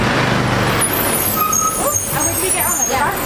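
Busy roadside traffic at a Sri Lankan bus stop on the way to Galle, with loud engines, a hiss of air brakes and horn-like tones as a bus pulls in, voices talking over the din throughout.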